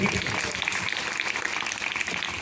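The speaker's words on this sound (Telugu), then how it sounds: "కొట్టండి చప్పట్లు గట్టిగా, ఇంకా గట్టిగా" Energetic congregational clapping fills a church service in a dense, continuous wash of applause at moderate volume, with no voices rising above it.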